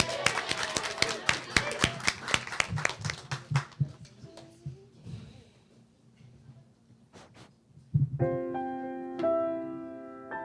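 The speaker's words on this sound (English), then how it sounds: "Also an applause for Reed" A small audience at a youth chorus cabaret show claps for the conductor: a few seconds of sparse, close handclaps that quickly thin out, followed by quiet and then sustained piano-like tones.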